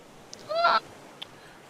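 A single short, nasal honk from a bird in the video game Raft, fairly faint and heard alone over a quiet background with a couple of tiny clicks.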